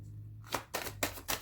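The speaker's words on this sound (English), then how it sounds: "One more shuffle." Tarot cards being shuffled by hand, four short crisp bursts of riffling at a steady rhythm, close and fairly quiet over a low hum.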